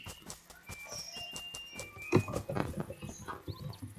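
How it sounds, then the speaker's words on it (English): Footsteps in the survival shooter game Apocalypse Rising 2: a run of soft, rhythmic, patter-like steps close by, mixed with faint game ambience and occasional sharper knocks. "I thought that was a player for a second because I heard footsteps"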